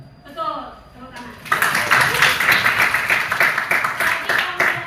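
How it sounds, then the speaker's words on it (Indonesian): A school class claps hands together in a dense, steady burst of applause that starts after a moment of voices and keeps going loudly to the end. "Betul, tepuk tangan."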